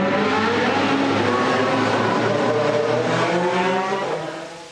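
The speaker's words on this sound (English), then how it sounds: "hear the cars heading out for the International GT Open, which will be starting in a few minutes" Race cars of the International GT Open at Monza roar steadily as they head out, a loud continuous engine drone with layered revving that fades slightly at the end.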